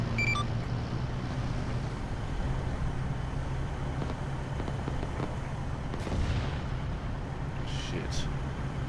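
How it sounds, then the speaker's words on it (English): RPG explosions in a military video game rumble as low, muffled booms over a constant engine drone, with a couple of sharper bursts late on and no speech. "I'm hearing RPGs going off"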